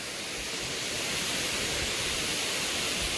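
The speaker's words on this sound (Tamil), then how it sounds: "அந்த மலைக்கு இடையில நல்லா தண்ணி வருது பாருங்கள்" A steady, dense rush of a waterfall between mountains roars without a break, constant and fairly loud.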